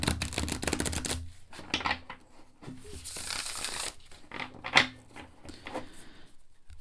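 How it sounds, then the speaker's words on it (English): An oracle-size tarot card deck is shuffled by hand, giving close, dry riffling and crinkly rustling in uneven bursts, with a few sharper snaps and brief pauses. "shuffling wise, I'll show you this first before I show you the cards"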